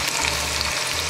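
Chopped onion frying in hot oil with cumin, a steady close sizzle with soft stirring scrapes running throughout, no voices.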